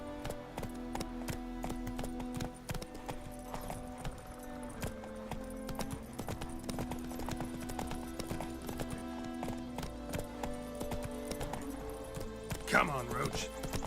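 Horse galloping in the Witcher 3: Wild Hunt video game, a fast continuous hoof rhythm throughout under game music and character dialogue, with a brief whinny near the end.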